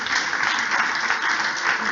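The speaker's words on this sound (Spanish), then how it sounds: "Dele ese aplauso a Jesús" A church congregation applauds during a sermon, a continuous, even roar of many hands clapping at full strength with no pauses.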